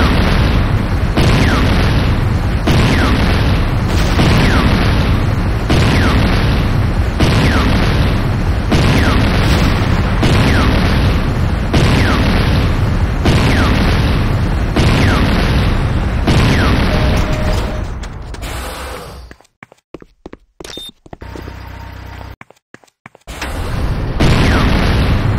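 Explosions as a GDI Tiberium Refinery comes under attack in the Renegade video game: loud, continuous booming blasts pounding in steady rhythm, then breaking into scattered bursts and brief silences before resuming.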